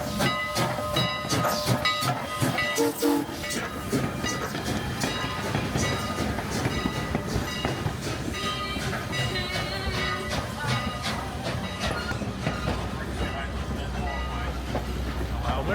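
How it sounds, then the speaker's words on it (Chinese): An old-style heritage train arriving at a station, a loud, close rumble with hissing steam and rhythmic rail clatter, with people talking over it. "好久没有听到这种火车的声音了"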